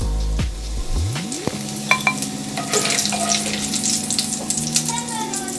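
Bacon and sausages fry loudly in a pan for a fried cabbage dish, giving a dense, crackling sizzle punctuated by a few sharp clinks and pops.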